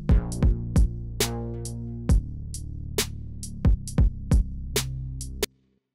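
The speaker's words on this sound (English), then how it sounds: "To add the variation, I'm going to use the same drum pattern, but without the hi-hats." A drum and bass pattern without hi-hats, programmed in Ableton Live, plays punchy kicks and snappy hits in a quick syncopated rhythm over a sustained bass tone, then cuts off abruptly.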